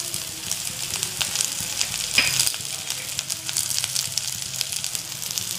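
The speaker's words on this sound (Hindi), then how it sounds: "आप देख सकते हैं, हमारा प्याज हल्का सा फ्राई हो चुका है।" Onion, coconut and cashew nuts crackle and hiss in hot oil in a pan, a continuous close sizzle with small popping bursts throughout.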